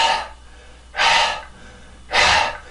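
Two airy exhalations pushed through an open glottis, like ordinary breathing, each about a second long with a quiet pause between them, close and clear with no voice.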